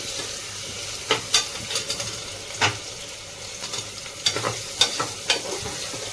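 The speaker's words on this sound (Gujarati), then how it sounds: "હવે આમાં નાખે છે ટમાટર અને મરચાંનું." Tomatoes and chilies sizzle in a frying pan, a steady soft crackle broken by several sharp stirring scrapes and clatters, close and moderately loud with no talking.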